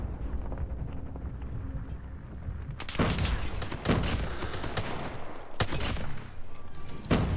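Striker shotgun firing regular non-slug rounds in a video game, loud booming blasts repeating at irregular intervals over steady wind-like background noise.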